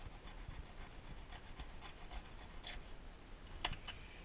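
A lathe cutter bit being honed on a small diamond stone for a South Bend 9-inch lathe, giving a steady soft scraping rasp of repeated strokes, fairly close, with a couple of sharper clicks near the end and no talking.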